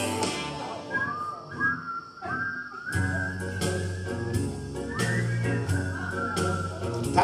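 A concert audience whistles along to an oldies song, a sustained wavering whistled melody carried over the live band's steady music at moderate volume.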